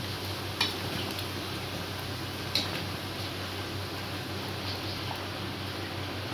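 A pot of brinjal and dried fish curry simmers steadily, a soft continuous bubbling hiss with two faint clicks of utensils and no voices.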